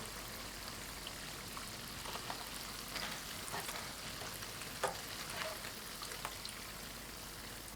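Hamburger bun dough frying in hot oil while being turned over and over until golden on both sides, giving a steady, fairly quiet sizzle and crackle with scattered louder pops and no talk.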